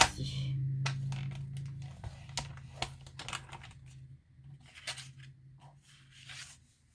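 Paper being creased and folded by hand for a handmade junk journal, with close dry taps, rustles and sharp crisp crackles coming in irregular bursts over a low steady hum.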